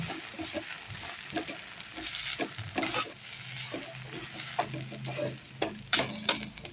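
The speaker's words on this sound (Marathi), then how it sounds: "ज्वारीचे पीठ, बेसन पीठ, आता हे आपण व्यवस्थित मिक्स करून घेऊया" Jowar and besan flour mixture being stirred in a pan for methi zunka, with repeated close scraping strokes of a spoon and a soft underlying sizzle, no voices.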